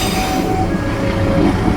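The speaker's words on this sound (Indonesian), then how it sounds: "Di sini kereta yang aku naiki Putri Deli berbelok ke kiri ke arah Kisaran" The Putri Deli passenger train, hauled by a double-traction BB 203 locomotive, turns left at a railway junction. Steady wheel rumble runs under sustained high metallic squeals from the wheels on the curve, loud and close.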